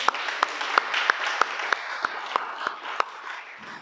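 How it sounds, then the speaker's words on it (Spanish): A small audience at a Torah teaching claps sparsely and quietly, with about a dozen distinct claps spaced fairly evenly over a few seconds under a soft background murmur. "Vamos a dar un aplauso al Creador."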